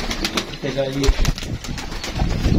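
Domestic pigeons, a mated pair with a baby, give a soft coo close by, partly under someone talking nearby.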